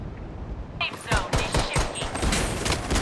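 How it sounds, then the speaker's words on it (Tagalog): Gunfire in the mobile shooter Blood Strike: a burst of rapid automatic shots breaks out after a brief lull, then keeps rattling loudly and densely to the end, with voices talking over it. "I'm under heavy fire."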